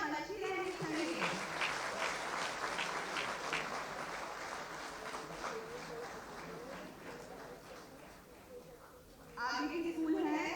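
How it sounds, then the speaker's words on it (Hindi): Audience applause at a school prize-giving ceremony for a Bhagwan Mahavir nirvana festival, steady clapping from a crowd that carries on for about nine seconds, then swells louder near the end as a voice begins over it. "तालियां बजती रहनी चाहिए."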